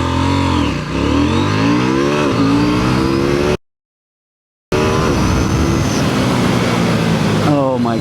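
A KTM 790 Duke naked motorcycle accelerating hard, its engine climbing through the revs with rising, shifting tones, a brief cut to silence, then another loud close pull through the gears with wind noise.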